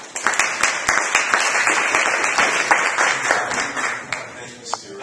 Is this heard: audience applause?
yes